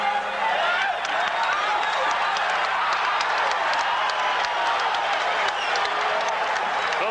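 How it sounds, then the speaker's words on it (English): A boxing crowd at Caesars Palace in Las Vegas applauds Muhammad Ali during his fight with Larry Holmes: a dense, sustained roar of clapping and crowd noise, with a commentator's voice faintly underneath. "So the crowd here loves to see it anytime Ali does anything that's in any way exciting"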